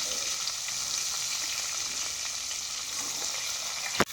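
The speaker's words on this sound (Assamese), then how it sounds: "এতিয়া পিঁয়াজটো ভাজি লওঁ।" Onion fries in hot oil in a pan, a loud continuous sizzle close by with faint stirring scrapes and a sharp knock near the end.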